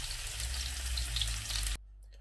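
Potatoes and eggplant frying in oil make a soft, steady sizzle for under two seconds before cutting off abruptly.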